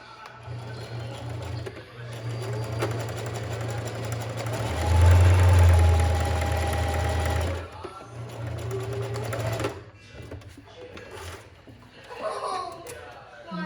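A home sewing machine stitching a child's pinafore, its motor whirring steadily in long runs that swell louder midway, stopping and starting, with a voice talking faintly between and over the stitching.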